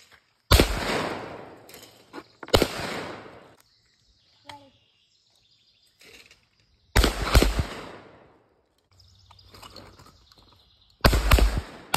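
A shotgun fires at clay targets outdoors, four loud sharp blasts spread unevenly across the stretch, each ringing off in a short decay, with quiet gaps, faint birdsong and brief distant sounds between shots.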